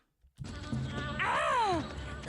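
Cartoon mosquitoes buzz close by in a short burst, a thin whining drone with pitch bending downward, faint and without talk.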